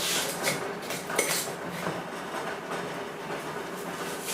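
Metal lids and bands for mason jars of dill pickles being handled, a close, dense clatter of metallic clinks and rattles that stays fairly loud throughout.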